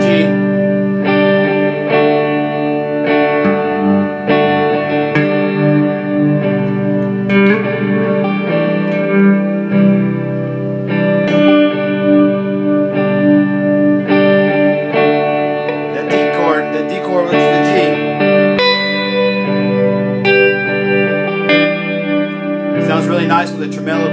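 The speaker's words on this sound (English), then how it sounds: "I'm getting ready to use a tremolo pedal with a heavy, heavy reverb" Electric guitar played through a tremolo pedal and heavy reverb, sustained ambient chords with a pulsing, shimmering wash that swells and rings on continuously throughout, loud and close.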